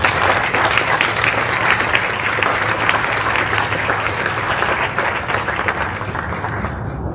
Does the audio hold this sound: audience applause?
yes